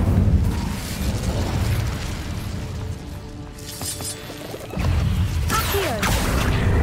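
Incendio fire spell cast in Hogwarts Legacy, a loud burst with a rushing whoosh and crackling flare, dense game effects throughout with a brief quieter lull midway before another blast.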